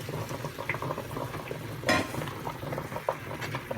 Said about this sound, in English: And then we're going to go ahead and add in the shrimp.